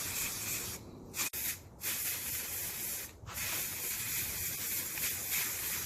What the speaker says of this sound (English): I'm going to be spraying the top of the table with this paint here. This is the Rust-Oleum Satin Espresso.